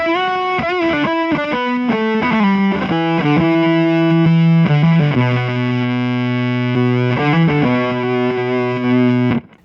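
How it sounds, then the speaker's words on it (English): Electric guitar run through an overdrive pedal into a fuzz pedal gives a thick, heavily distorted tone, playing a steady, loud riff of chords and sliding notes for several seconds before cutting off abruptly. "So let's hear what it sounds like to do overdrive into fuzz."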